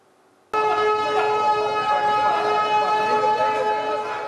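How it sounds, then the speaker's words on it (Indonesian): An earthquake warning siren for a disaster drill at a building starts abruptly after a short silence, then holds a loud, steady, multi-toned wail to the end. "diawali dengan dibunyikan sirine gempa selama 1 menit"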